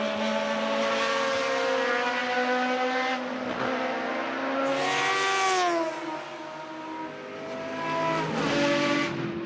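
Jaguar XJR8 Group C race cars roar past at Monza, their loud high-revving engines sweeping up and down in pitch as they close in and fade away one after another, with no voices over them.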